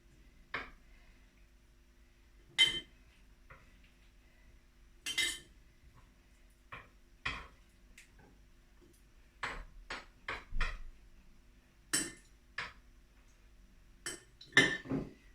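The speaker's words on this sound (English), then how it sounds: "that's the lemon and the orange chopped up into small bits and put in the jar" Chopped lemon and orange pieces dropped into a jar, giving a series of sharp clinks and knocks spaced irregularly, fairly close and clear with no talking.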